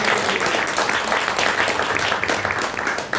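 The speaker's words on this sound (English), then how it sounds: "I think one more round of applause." Dense, sustained audience applause at a book launch at Readings bookshop, many hands clapping close and steady with no pause, tapering slightly near the end.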